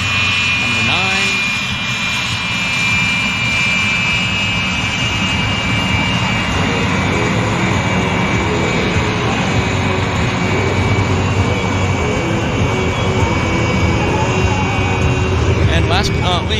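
Frecce Tricolori jet airplanes fly at an airshow at CFB Cold Lake, giving a continuous loud jet roar with a high whine on top that holds steady throughout.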